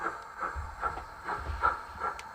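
Model train on a model railway layout rolling across a set of points, with a faint, rhythmic run of light clicks over a soft background hiss, quiet and close.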